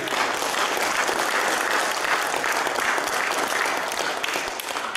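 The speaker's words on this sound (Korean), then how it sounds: "우리 성가대를 위해서 박수 한번 뜨겁게" Steady, dense applause from a large church congregation for the choir, sustained and even throughout with no pauses.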